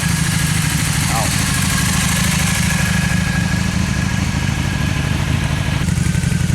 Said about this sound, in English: One more time for that exhaust.